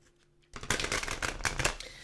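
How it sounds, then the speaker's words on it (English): Tarot card decks are shuffled in a brisk riffling burst that starts after a short quiet moment, a close, papery flutter with quick repeated snaps. "I'm just giving the decks a couple of shuffles"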